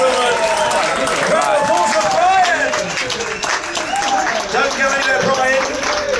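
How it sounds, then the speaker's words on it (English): A cruise-ship audience gives a loud, sustained round of applause with cheering voices mixed in, dense clapping filling the whole stretch without a break. "round of applause for Brian!"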